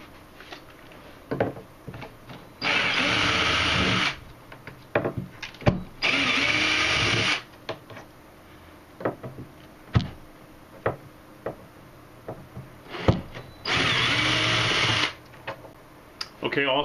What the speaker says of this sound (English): be careful when removing these screws that you don't damage anything around the speaker surround